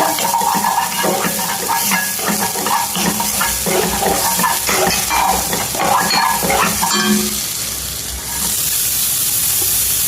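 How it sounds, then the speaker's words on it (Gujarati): Garlic and ginger sauté in a pan with a loud, busy sizzle and stirring scrapes that fill most of the stretch, then give way to a steadier hiss toward the end. "લસણ, આદું એને સોતે કરી લેવાનું છે."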